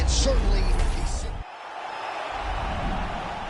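Arena crowd in the UFC 5 fighting video game roars loudly after a knockout, then the cheer drops away briefly before a steady crowd murmur returns.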